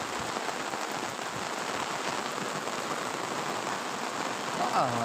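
Steady rain pours down on an open village field, a dense even hiss of drops striking ground and leaves throughout, with a brief faint voice rising near the end.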